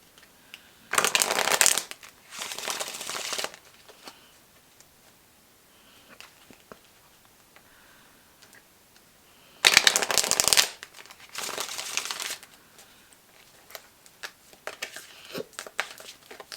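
Tarot cards are shuffled in several close, crisp riffling bursts separated by quiet pauses, with light handling noises between them and no speech.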